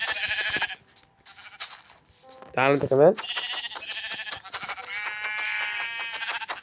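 A sheep in Minecraft gives a loud, wavering bleat in the middle, surrounded by bright game sound effects and someone talking before and after it.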